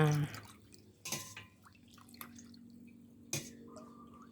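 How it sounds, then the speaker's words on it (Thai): Yanang leaves are squeezed by hand, with a few faint wet squishes and sparse green juice drips landing in a quiet kitchen, no talk. "เทคนิคการคั้นใบยะนางคือใช้มือคั้นนะคะดีที่สุด"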